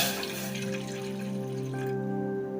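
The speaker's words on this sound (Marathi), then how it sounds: "आपण पाणी घालणार आहे" Water is poured into a pan to make sugar syrup for rava gulab jamun, giving a steady, close trickle and splash that runs for a few seconds over a constant background hum.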